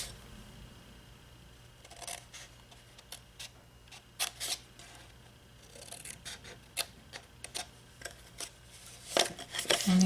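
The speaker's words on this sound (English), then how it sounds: "I'm going to cut out little slits." Scissors cut slits into a cardstock note card box, producing a series of sharp, separate snips and crisp paper crunches at irregular intervals, close and fairly clear against a quiet room.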